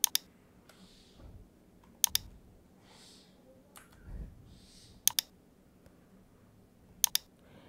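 Computer mouse clicks while saving changes in a website editor, coming as close, crisp double clicks at roughly two-second intervals over a quiet background.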